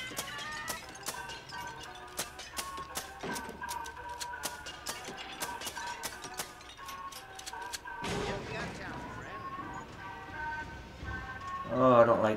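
Sharp gunshots crack repeatedly in the horror shooter Until Dawn: Rush of Blood, an irregular string of loud shots with a rumbling ride and voices underneath.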